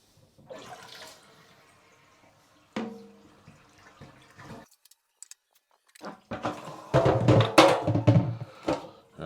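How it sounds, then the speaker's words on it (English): Water is poured out of an eShopps S200 aquarium protein skimmer, starting with a few faint drips and splashes and building to a loud, rushing pour near the end, with no talk. "It's time to empty out this water and reassemble the skimmer."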